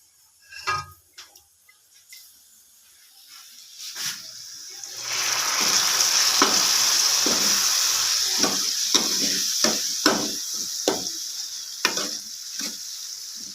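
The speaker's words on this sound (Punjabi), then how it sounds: "ਹੁਣ ਇਹਦੇ ਚ ਆਪਾਂ ਥੋੜਾ ਜਿਹਾ ਦਾਲ ਦਾ ਪਾਣੀ ਪਾਵਾਂਗੇ" Dal water hits a sizzling spice tempering in a hot pan and a loud, steady sizzle builds, with scattered clinks and stirring ticks before and after; no talking.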